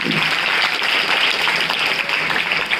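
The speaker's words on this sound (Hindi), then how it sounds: "अमन गुप्ता के लिए एक और ताली" A crowd of students and staff at a school Hindi fortnight ceremony gives another round of clapping for a boy named Aman Gupta, a sustained, even wash of applause at moderate loudness, with no speech over it.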